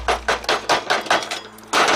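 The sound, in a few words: hammering tin can tabs back with pliers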